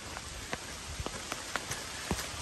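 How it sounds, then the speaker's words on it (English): Morning rain falls on the Appalachian Trail, a constant close patter with scattered distinct drops tapping on nearby surfaces, steady and unbroken. "it wasn't supposed to be raining this morning, but it is."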